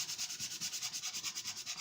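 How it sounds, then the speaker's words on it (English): Sanding block rubbed back and forth over a wooden box coated in PLAID chalk paint, a steady run of about a dozen quick, even strokes, close and fairly quiet with no talk. "So you can use the sanding block."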